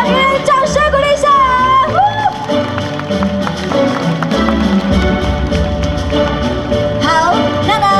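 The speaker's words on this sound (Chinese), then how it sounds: "现场朋友们，给人掌声鼓励一下！" Applause breaks out from the crowd at the opening ceremony of the 2013 Kaohsiung Yuhebao lychee beer festival, a loud, dense, continuous clatter of clapping with occasional whoops and background music.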